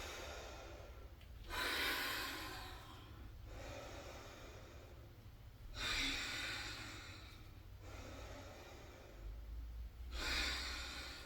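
Three slow, deep breaths drawn in and let out during a relaxing meditation and movement practice, each inhale a soft broadband rush rising and falling in a steady rhythm, close and alone with no talking.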